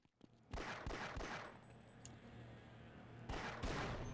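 Gunfire in the video game Half-Life: Blue Shift, steady bursts of shots rattling for a few seconds with a short pause before resuming, fairly close and moderately loud with no voices.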